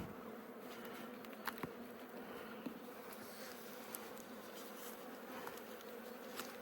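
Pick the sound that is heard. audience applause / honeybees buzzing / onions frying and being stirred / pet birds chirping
honeybees buzzing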